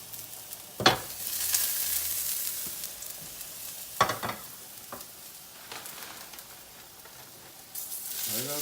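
Freshly chopped garlic sizzles in hot oil in a pan, a steady crackling hiss with a few sharper bursts as it is stirred and pushed around, alone without talk.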